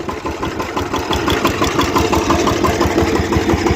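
A 13-horsepower Shakti 130 DI tractor diesel engine idles steadily up close, a loud, even low chugging with a rapid regular knock throughout.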